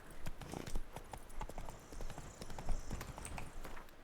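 Roach the horse trotting in The Witcher 3, quick rhythmic hoof clip-clops at close range, steady and even throughout.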